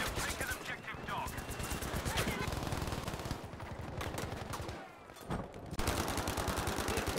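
Rapid automatic gunfire in the Battlefield V shooter crackles in dense bursts with short pauses, loud and close, while players talk over the shooting.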